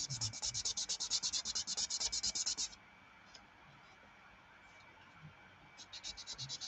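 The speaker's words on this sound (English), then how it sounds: "I'm sanding them right now" Quick rhythmic scratchy strokes of sandpaper rubbing on balsa wood, a bursty run of back-and-forth scrapes, a pause, then more strokes, close to the mic.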